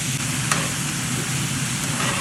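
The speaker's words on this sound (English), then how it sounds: "now I'm gonna add my salsa mixture that I made in my blender" Salsa from a blender poured into frying rice: a steady, loud sizzle of liquid hitting a hot pan, crackling and hissing continuously throughout.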